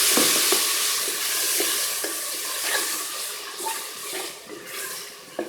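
Mutton with chopped tomatoes, salt, red chilli, turmeric, coriander and cumin powders cooks in a pan for mutton with okra, giving a steady wet sizzle with repeated spoon scrapes and stirring taps throughout.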